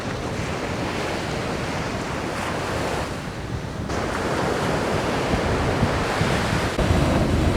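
Sea waves wash onto a beach in Sicily, a continuous roaring surf mixed with heavy wind buffeting the microphone, loud and steady with a slight swell partway through.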